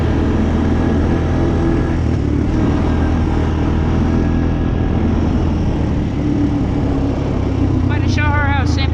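Honda Recon ATV engine running steadily while riding outdoors, a loud continuous low drone with rough mechanical texture, joined near the end by a brief higher whine or voice.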